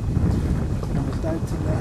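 Steady low wind rumbles and buffets the microphone outdoors by a reservoir in the evening, with a faint voice briefly in the background.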